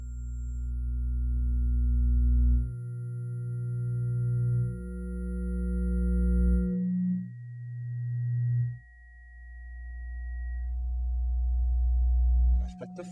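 Pure sine-wave tones from an electronic music composition built on low frequencies, sustained notes stepping downward in pitch one after another, each swelling and fading with faint higher partials, heard alone with no voices.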